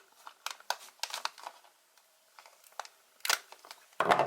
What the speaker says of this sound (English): Let me just get my snips because these are what I use to open the instructions.